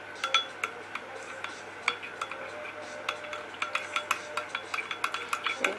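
Spoon clinking and scraping against a pot or bowl while sugar or honey is stirred into a budae jjigae mixture, a run of light repeated taps growing quicker and busier toward the end, close by with no voices.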